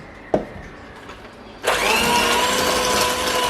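An electric mixer creams sugar and margarine for a vanilla cake, starting with a sudden whir and then running as a loud, steady, even drone alone.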